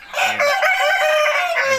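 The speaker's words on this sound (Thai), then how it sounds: "มาดูฟังเสียงไก่ขันด้วยกันนะนะครับ" A farm rooster lets out a single full crow, a loud, close, raspy call held for nearly two seconds with a wavering pitch and no voices over it.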